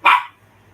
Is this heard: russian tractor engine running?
no